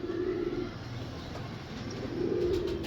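Pigeons kept by a fancier cooing in low, rolling repeated calls, one near bout at the start and another toward the end over a faint background hum.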